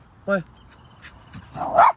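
A playful dog gives a single short bark up close, then whines and yips faintly as people talk nearby.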